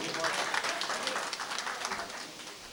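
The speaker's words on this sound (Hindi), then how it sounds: "एक बार मैं चाहूँगी कि आपके लिए ताली बजाई जाए" An audience at a mushaira poetry gathering applauds: steady, dense clapping from many hands fills the room, fairly soft and even, tapering slightly toward the end.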